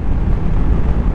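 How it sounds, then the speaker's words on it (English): Loud, steady wind buffeting a microphone while riding an 8th-generation VFR800F motorcycle at speed, a dense low roar with constant rumble and no speech. "it is just windy as hell, hitting my shoulders and making a right racket"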